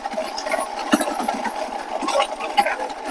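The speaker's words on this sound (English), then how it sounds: "That is my cart rattling on this pavement." A cart rattles over pavement at an outdoor swap meet, giving a continuous near, gritty clatter with small jolts and knocks.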